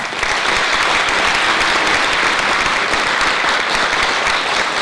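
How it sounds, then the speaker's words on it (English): A school audience applauds a visiting speaker at an assembly, a dense, loud, sustained roar of clapping that stays even throughout with no break. "let's give Jack a round of applause"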